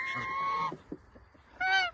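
Geese honk near a nest where a baby goose has just hatched, with protective males nearby: two loud nasal honks, one at the start and one near the end, with quieter rustling between.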